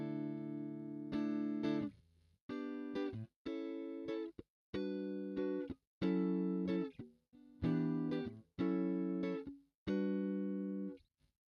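Electric guitar through a Valeton GP-200 multi-effects unit on the Kira preset, playing a series of about nine short, separate chord stabs with brief gaps between them; very quiet overall and heard alone.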